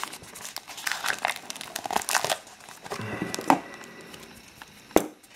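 Close-up crinkling and tearing of taped packaging around a commemorative coin, with irregular rustles, sharp snaps and a few louder pops as tape is pulled away.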